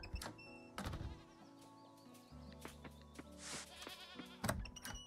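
Goat bleating in the farming video game Coral Island, heard as a few short, fairly loud game-animal bleats among layered chimes and background music, with no talking.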